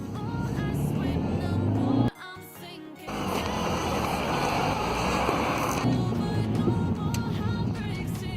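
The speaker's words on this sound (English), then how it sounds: "This has got a slight whine on it. It's like a supercharged whine, which is nice." A Volkswagen Scirocco with a 1.4 TSI engine drives under load, producing a loud continuous engine drone with a high supercharger-like whine and road noise, briefly dipping as if shifting gear before building again.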